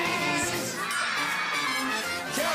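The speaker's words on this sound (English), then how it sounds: "Sounds a big cheer! Yay!" A young children's audience at a family entertainment show gives a big cheer, a dense wash of high-pitched shouts and whoops that stays loud for the whole stretch.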